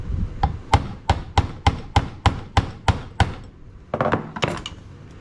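Sharp chisel struck with a hammer against a tough, hardened coating on a 1978 Dodge W200 truck, about a dozen crisp, evenly spaced metallic blows ringing out close by, then a few quicker uneven hits.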